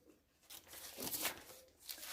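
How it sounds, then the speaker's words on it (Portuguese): Pages of a Bible are turned by hand, giving a few brief, close papery rustles and crinkles in an otherwise quiet room. "Nós continuamos folheando a palavra de Deus"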